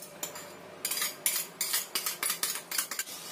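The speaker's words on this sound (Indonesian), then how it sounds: "Kita aduk rata dulu." A utensil scrapes and clinks against a bowl as sugar is mixed into nogosari batter, giving repeated rhythmic strokes that sound close and clear, with no talking.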